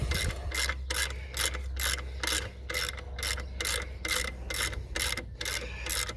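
Repeated clicking strokes of a 12mm socket ratchet loosening an alternator bolt on a 2000 Subaru Legacy, about a dozen evenly spaced rasping passes over a low steady hum, close up with no talking.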